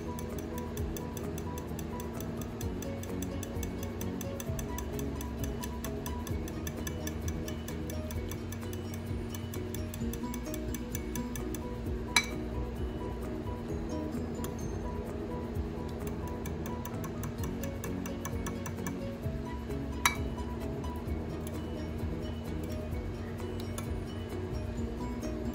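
Eggs are beaten in a bowl for a potato omelette, giving a quick, steady ticking clink of a utensil against the bowl that runs throughout at moderate loudness, with a couple of sharper knocks.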